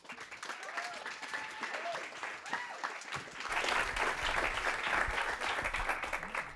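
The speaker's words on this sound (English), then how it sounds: "make a big round of applause for Robert" Live audience giving a speaker at a tech meetup a round of applause, scattered voices at first, then dense clapping building and holding to the end.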